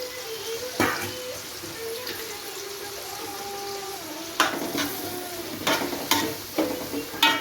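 Spoon stirring an egg dish in a pan, soft hissing underneath with several sharp scraping and clinking strokes against the metal, close and clear.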